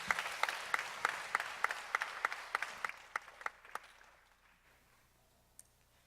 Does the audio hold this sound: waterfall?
no